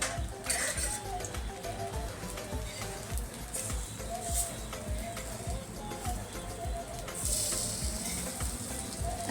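Chicken keema cutlets fry in a small pan with a continuous soft sizzle and crackle, close up, with occasional brighter spatters and a faint clink of utensils.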